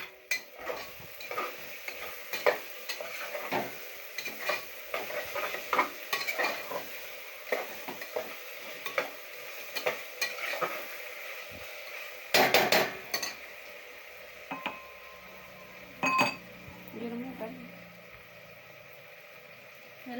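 Garlic-ginger paste with salt stirred in a pan, a spoon scraping and clinking against the metal in an irregular rhythm over a faint steady sizzle, with a couple of louder knocks near the end.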